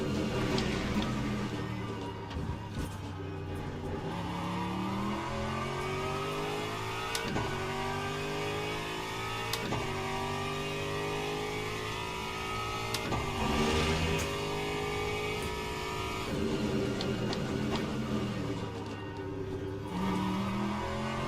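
GT3 race car engine in the sim racing game Le Mans Ultimate at Imola, rising and falling through gear changes with repeated upshift sweeps and throttle lifts, steady and prominent throughout.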